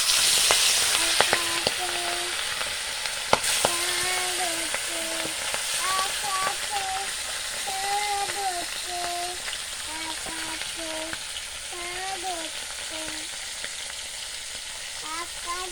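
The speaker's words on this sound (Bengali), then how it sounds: "কড়াই গরম হয়ে গেছে, কড়াইতে দিয়ে দেবো তেল" Oil heats in a hot kadai before fish go in to fry, giving a steady crackling sizzle that stays close and constant, while a voice hums or sings in short melodic phrases over it.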